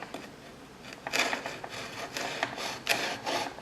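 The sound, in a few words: knife cutting through plastic visor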